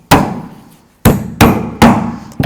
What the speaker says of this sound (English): you want to make sure that you hammer them down so that that metal is on the other side